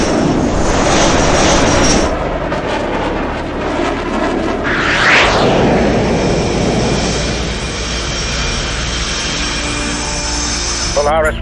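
Jet aircraft engine in the combat flight game H.A.W.X. 2, a loud continuous roar with rising whine as it spools up for takeoff, swelling midway and holding steady to the end.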